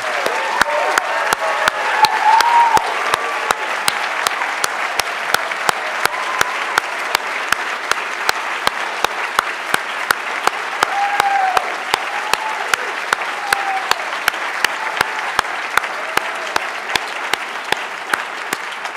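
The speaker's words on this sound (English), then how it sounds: "so we can give you a nice, warm round of applause" Audience at a National Book Award finalists reading in a hall at The New School gives a long, warm round of applause, steady dense clapping with sharp individual claps standing out, sustained without a break.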